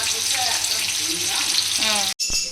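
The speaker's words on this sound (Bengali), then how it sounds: "না, আলুগুলো আগে ভাজবো।" Potatoes fry in a pan with a loud, steady broadband sizzle that runs nearly unbroken, dropping out briefly for a moment before resuming.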